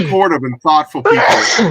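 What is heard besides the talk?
sneeze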